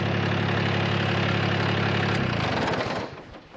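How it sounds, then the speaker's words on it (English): Gas engine of a Kubota ZD1011 zero-turn mower idling close by, a steady loud rumble that shifts pitch and then drops away as it shuts down near the end. "Kubota zero-turn mower."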